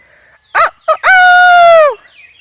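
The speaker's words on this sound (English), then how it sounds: "Sometimes I can get him to crow." A rooster crows in one long, loud, harmonic call that swells and falls over about a second, after two short clucks, close by in a backyard flock of free-ranging birds.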